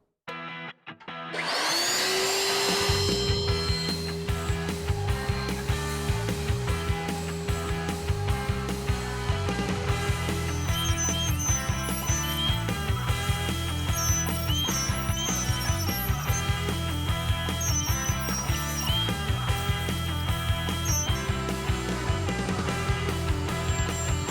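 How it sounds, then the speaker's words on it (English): A router table cuts a wooden clipboard, with the motor spinning up sharply and then holding a loud, steady whine layered with rattling, buzzing cutting noise for the full stretch, near and without voices. "First thing we're going to do is make the cuts on the router table."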